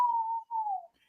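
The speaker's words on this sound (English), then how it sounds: "We got a train whistle." A train whistle gives a single steady tone that drops slightly in pitch, with a brief break partway through, heard fairly faintly on its own.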